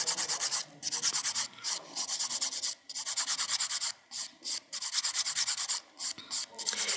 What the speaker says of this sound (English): I'm going to finish filing this while you start getting those forms on.